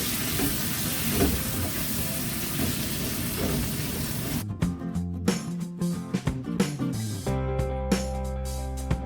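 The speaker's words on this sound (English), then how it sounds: "And we will add about maybe 2 cups of kimchi. And we stir fry." Kimchi stir-frying in a pan for kimchi stew: the first half is a loud, steady sizzle, then the sizzle fades into scattered clatters and scraping knocks of stirring, close by with no talking.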